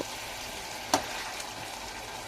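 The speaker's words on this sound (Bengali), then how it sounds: "আমি চিকেনটা দেওয়ার পর খুব সুন্দর করে সব কিছু একসঙ্গে আমি নাড়াচাড়া করে নিচ্ছি।" Chicken for biryani sizzles steadily in a hot pan while a utensil stirs it, giving a couple of brief scraping knocks over the frying hiss.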